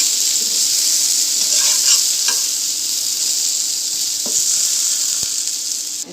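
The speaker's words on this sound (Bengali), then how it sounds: "আমি বেগুনগুলো অনেক ছোটো ছোটো করে কাটে নিচ্ছি হালকা একটু তেল দিয়ে ভেজে নিচ্ছি" Small chopped eggplant pieces fry in a little oil, giving a steady, close hissing sizzle throughout, broken by a few faint scrapes and clicks of stirring.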